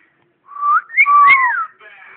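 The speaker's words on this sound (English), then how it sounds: "Is he whistling at you, bud?" A pet bird whistles up close in two or three bright, sliding phrases rising and falling in pitch, loud and alone with a short pause between them.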